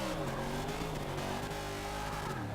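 Race cars in a KMR series skills challenge sweep past as a continuous engine roar with gliding pitch that rises and falls as they go by. The roar sounds moderately loud, with no voices.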